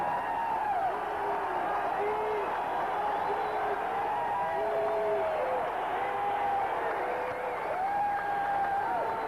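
Boxing arena crowd at a junior middleweight bout, a steady roar of cheering and whistling that holds for the whole stretch, with rising whoops and shouts layered on top.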